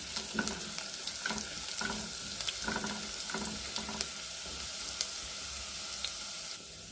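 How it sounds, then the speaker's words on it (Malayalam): Chopped red shallots frying in oil in a pan, a continuous bright sizzle with repeated crackling pops and occasional stirring scrapes, close and steady without any talk. "ഇതിലേക്ക് കുറച്ച് ചുവന്നുള്ളി അരിഞ്ഞതാണ് ഈ ചുവന്നുള്ളി നന്നായിട്ട് മൂക്കണം"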